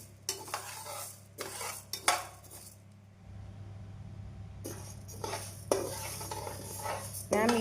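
Urad dal roasts in a dry pan for idli podi while a spatula stirs it in repeated bursts of scraping and rattling, with a short quieter pause in the middle, close by and with no speech.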